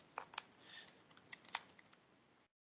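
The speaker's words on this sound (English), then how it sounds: "So let me type the instructions here." Typing on a computer keyboard, a short run of crisp, close key clicks with a few louder taps, quiet and without talk.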